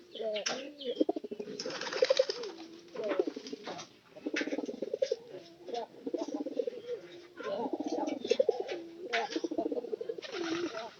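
Pigeons coo nearby in soft, repeated throaty bursts with short pauses between phrases, and a faint flutter of wings now and then.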